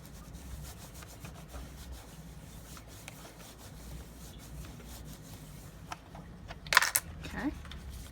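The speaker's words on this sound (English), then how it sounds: "I kind of just go back over them, burnish them a little bit more." Paper card pieces for a window bay greeting card are burnished by hand, a soft, steady rubbing at low level that runs throughout, with a couple of brief sharper scrapes near the end.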